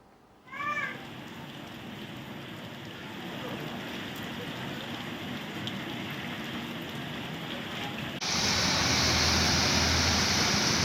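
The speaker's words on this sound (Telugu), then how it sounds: "నగర వ్యాప్తంగా మోస్తారు వర్షం కురుస్తోంది" Steady moderate rain falls across Hyderabad as a constant hiss that swells louder near the end, with a brief high-pitched cry like a cat's meow near the start.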